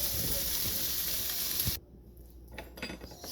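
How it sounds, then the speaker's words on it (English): Onions and cherry tomatoes sizzle in a frying pan with a dense crackle that cuts out abruptly partway through, leaving quieter scattered clicks and clatter. "I'm going to put in these onions and cherry tomatoes and fry all that up"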